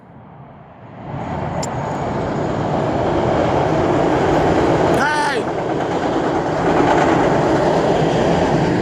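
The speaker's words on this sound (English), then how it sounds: "Here go the train." A train rolls past outdoors in the cold, with a steady loud rumble and rail clatter that builds and holds throughout, while someone speaks briefly over it.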